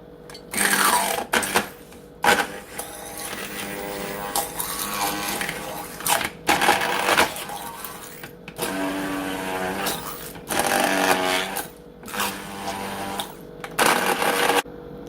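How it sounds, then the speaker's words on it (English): Immersion blender mixing a pumpkin banana smoothie in a mixing bowl, loud motor bursts starting and stopping repeatedly in short pulses with brief pauses between, close up. "I'm going to use my immersion blender and mix it up in this mixing bowl"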